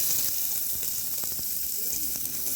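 Onions dropped into a pan of frying chicken for a small chicken stew, giving a steady close-up sizzle and crackle with a few sharper spits, no talking.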